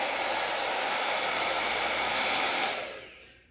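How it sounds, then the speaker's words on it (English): ghd Air Professional hair dryer blowing air, a loud steady rushing whoosh close by that cuts off and fades away near the end, with no talk. "So it blows from really hot to cool air in about 5 seconds."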